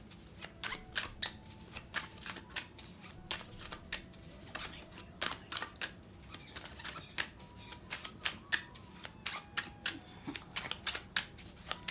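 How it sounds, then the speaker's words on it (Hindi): A tarot card deck being shuffled before drawing a card, heard as a quiet, irregular run of crisp flicking and riffling bursts that continue steadily, close by, with no talking. "I need one more card from this deck"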